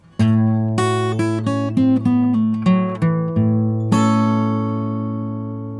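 A blues guitar ending tag: a quick run of plucked notes stepping down a major blues scale, finishing on a single strummed chord that rings out and slowly fades.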